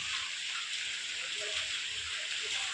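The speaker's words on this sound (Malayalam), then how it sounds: "അപ്പോൾ ഇതാ ചെറിയ ചാറ്റൽ മഴ ഉണ്ട് കേട്ടോ" A soft, even hiss of light drizzle falling continuously, with a faint voice murmuring underneath.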